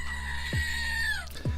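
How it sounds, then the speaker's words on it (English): Goats screaming, a loud drawn-out bleat that slides downward in pitch, with a second short cry starting near the end, close and harsh. "it's titled Screaming Goats"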